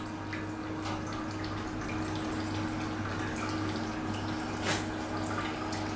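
A 3 kW continuous alcohol stripping still runs with a steady low electrical hum. Quiet liquid drips and gurgles sound faintly over it, with one slightly louder drop near the end.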